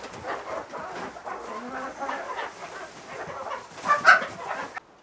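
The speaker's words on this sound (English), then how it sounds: "we are finally home with our 3 new chickens" Several chickens cluck and chatter softly nearby in short, uneven bursts, with a slightly louder squawk near the end.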